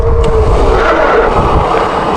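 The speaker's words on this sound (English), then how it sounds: "and I'll brake right here." An electric bike brakes hard from about 19 mph, giving a brief loud rubbing, skidding screech of the tires against steady road and wind noise, with no talk.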